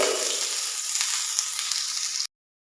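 Steady, bright sizzling of cumin seeds and grated ginger frying in hot oil, close and fairly loud, then it cuts off abruptly into silence.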